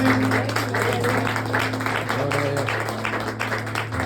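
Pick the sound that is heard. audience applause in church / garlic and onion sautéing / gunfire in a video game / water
audience applause in church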